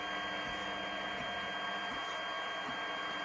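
A 3D printer lays down layers of a two-colour cupmat, its stepper motors whirring in a steady tone with periodic low thumps about every 0.7 seconds, close and continuous with no talking.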